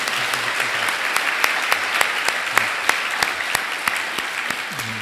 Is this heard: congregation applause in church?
yes